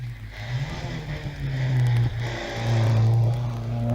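Datsun 240Z launching hard off the start line at a hillclimb, its engine note rising loud and steady with a brief dip partway through, close and alone without voices.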